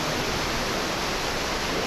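A waterfall in the countryside rushes in a steady, loud, broadband roar that never lets up, heard alone with no voices.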